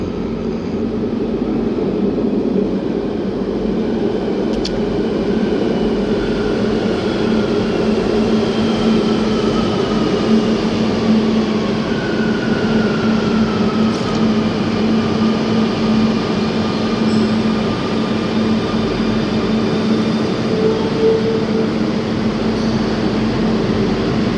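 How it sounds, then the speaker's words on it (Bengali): A Barcelona metro train rolls into a station with a steady loud rumble and a faint rising then falling whine, heard without pause from nearby on the platform. "মেট্রো ঢুকছে"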